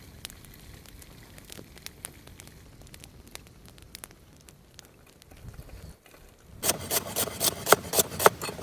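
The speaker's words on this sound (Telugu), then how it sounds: "సెకండ్ టైం కూడా ఫ్రై చేసుకోబోతున్నాం" Crispy Hyderabad-style chicken pakoda fries a second time in hot oil outdoors, giving a steady low crackle with scattered sharp pops that swells into a louder, denser sizzle for the last couple of seconds, with no voices.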